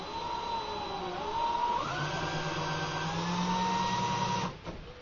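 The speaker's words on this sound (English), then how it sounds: "holder into my handy dandy drill, just like this, and I use my ball trimmer" A power drill spins a 9x19 brass case against a ball trimmer, giving a steady, loud motor whine with a grinding scrape that rises in pitch partway through, then cuts off abruptly near the end.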